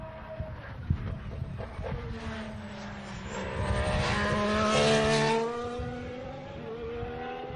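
A turbocharged 1.6-litre Formula 1 car at a 2014 Bahrain test session passes trackside, its engine note rising and swelling to a peak midway before fading, heard at moderate distance without talk.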